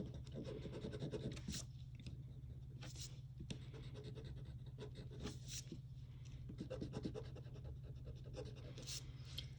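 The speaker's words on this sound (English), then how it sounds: "And then erase my excess." An eraser rubs excess pencil lines off paper in soft, quiet, intermittent scrubbing strokes over a low steady hum.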